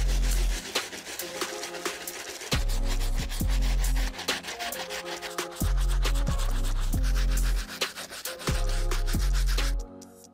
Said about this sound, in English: Soles look great thanks to our stiff bristle brush.